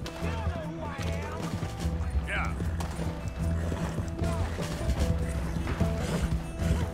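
Horse hooves clip-clopping at a gallop in Red Dead Redemption 2, a steady rapid rhythm running under game music and spoken dialogue throughout.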